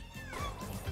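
A cat gives a short, close meow with a rising and falling pitch, lasting under a second.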